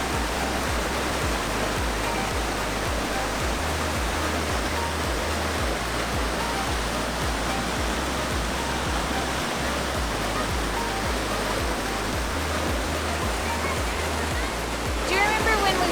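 Water rushes down a natural rock water slide in a wintry canyon, a loud, steady, close roar that holds without pause for the whole stretch.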